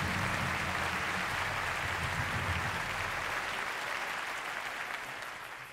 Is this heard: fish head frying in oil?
no